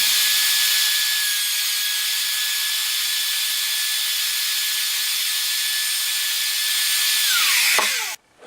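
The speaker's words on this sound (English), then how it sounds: "Once your routering is done" An electric router cutting a door hinge mortise in wood with a Ryobi hinge installation kit gives a loud, steady high-pitched whine with a constant tone, then winds down sharply near the end, with no talking.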